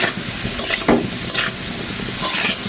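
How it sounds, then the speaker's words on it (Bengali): Potatoes fry crisply in a little oil for a vegetarian okra and potato dish, giving a steady close sizzle with occasional stirring scrapes and no talk. "একদম অল্প তেলে খুব সুন্দর মুচমুচে করে ভেজে নিলাম"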